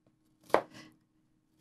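A kitchen knife slices an onion into rings for meatloaf, with two quiet, close cuts in quick succession and a third just starting at the end.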